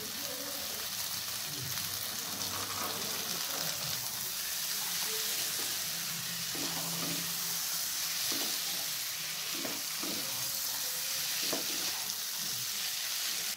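Green peas and small new potatoes sizzling and frying in a wok for aloo dum, a steady close hiss with occasional stirring scrapes and clinks throughout.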